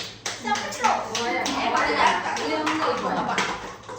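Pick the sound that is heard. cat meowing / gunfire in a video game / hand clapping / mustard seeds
hand clapping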